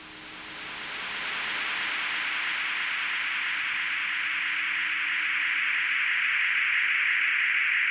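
Tape delay feedback swells up over the first second into a steady, loud, hissing wash of noise that holds and slowly brightens for several seconds, with no voices.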